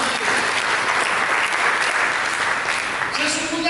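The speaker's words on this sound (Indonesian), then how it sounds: "Mari kita berikan tepuk tangan bagi Dia." A church congregation applauds during a sermon, with loud, sustained clapping throughout and faint voices and tones rising near the end.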